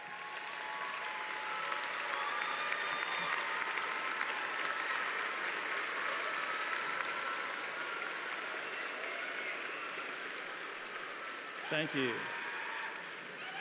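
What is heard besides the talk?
commencement audience applause for parents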